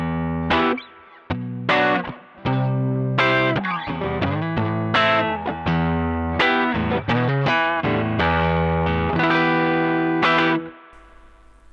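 An electric guitar on its neck pickup plays a run of overdriven notes and chords through a Strymon Sunset overdrive pedal, loud and continuous with short gaps between phrases, no voices.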